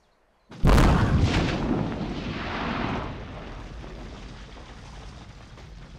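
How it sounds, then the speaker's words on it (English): A satchel charge detonates in a video game and destroys a house, a sudden loud blast that leaves a long rumbling, crackling decay as debris settles over several seconds. "Satchel charge did enough damage to completely take out that house, no problem."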